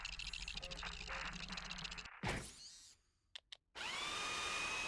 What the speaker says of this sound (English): I keep breaking my drill.